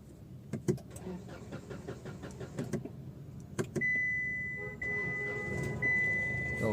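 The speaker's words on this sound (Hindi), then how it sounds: "अब हम गाड़ी को स्टार्ट करते हैं।" A Hyundai Grand i10 diesel car engine cranks with short clicks and rattles, then catches and settles into a steady, close idling hum with a high whine.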